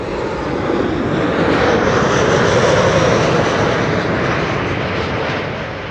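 A KLM airliner roars in on arrival at Amsterdam Schiphol Airport, its engines a loud, broadband rushing drone close overhead that swells and holds, then begins to fade at the end.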